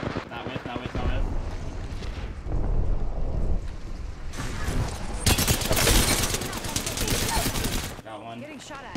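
Dense, loud gunfire from the video game Apex Legends, with continuous crackling bursts that swell and fade, a sharp heavy burst near the end, and voices talking underneath.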